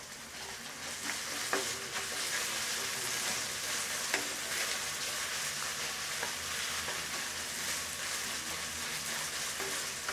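Mixed vegetables for veg Hakka noodles stir-frying in a hot pan, a steady dense sizzle with occasional clicks and scrapes of stirring, continuous and moderately loud with no talking.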